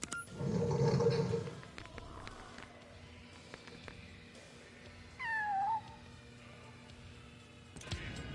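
A cat meows in the Lego Batman video game: one loud, rising-then-falling cry near the start, then a shorter, fainter meow around the middle over quiet game ambience.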